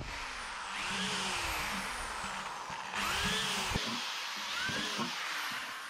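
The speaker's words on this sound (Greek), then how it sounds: "Οπότε με το τρυπάνι μας," A power drill bores holes in the bottom of a plastic barrel being made into a lionfish collector. The whine runs steadily and close, rising and falling in pitch with each hole.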